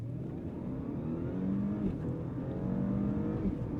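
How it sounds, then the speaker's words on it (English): A new Audi A6 with a standard V6 and dual-clutch gearbox launches from a standstill under launch control, its engine droning and climbing steadily in pitch from inside the cabin, with no voices. "So launch control is active, letting go."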